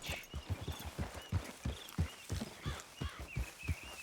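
Horse hooves clip-clopping at a steady walking rhythm while riding in Red Dead Redemption 2, close and clear with regular thudding beats and no talk over them.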